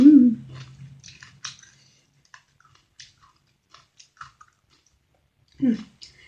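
Crisp crunchy chewing of a spicy chayote papaya salad with peanuts comes up close in short bursts of bites, with a voice speaking briefly at the start and again near the end.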